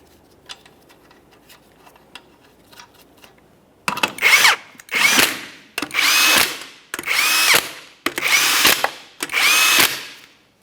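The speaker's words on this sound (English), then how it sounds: "Install your center cover and all 5 lug nuts. We'll bottom them out" Power tool running down lug nuts on a Jeep Patriot wheel, heard as six loud close bursts of impact-style whirring in a steady rhythm after a few seconds of quieter clinking and handling noise.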